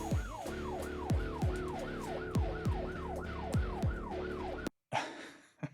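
A wailing siren sweeps up and down in a regular repeating rise-and-fall pattern within a song, layered over punchy bass hits and music, before cutting out abruptly.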